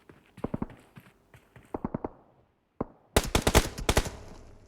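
Gunfire from the PUBG Mobile battle royale game: scattered single shots and short bursts, then a loud rapid burst of sharp automatic fire near the end.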